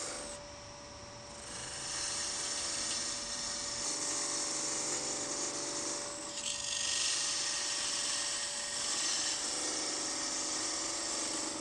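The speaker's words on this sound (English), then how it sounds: "Using a very fine parting tool, part down at the first mark" A very fine parting tool cuts into a spinning candlestick blank on a wood lathe, making a high, steady hiss and scrape that holds for seconds, dips briefly, then resumes, close and alone.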